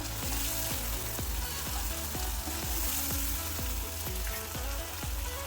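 Spices frying in hot mustard oil for a mackerel fishball curry, a steady dense sizzle with small regular pops and crackles running unbroken throughout, close and loud with no talk.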